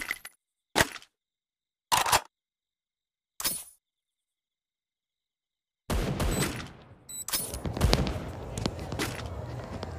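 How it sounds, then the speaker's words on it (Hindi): Grenade explosions in an over-powered mobile shooter game: three sharp separate blasts in the first few seconds, then a long loud stretch of dense, overlapping explosions and crackling detonations with no talk. "अब हम करने वाले हैं ग्रेनेड की पूरी बारिश"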